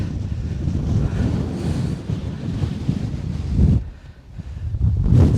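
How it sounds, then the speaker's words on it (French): Strong, cold wind buffets the microphone on a small hilltop along a Patagonian track near Perito Moreno park, a loud continuous roar that dips briefly before gusting again. "Alors il y a beaucoup de vent, ça doit s'entendre"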